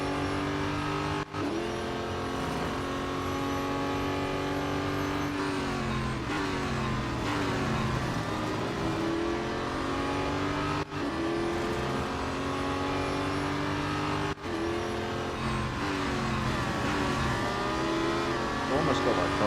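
Race car engine from the Real Racing 3 mobile game, a Duqueine D08 prototype in a race, droning loudly and steadily with rising and falling revs through corners, continuous throughout with a commentator talking over it.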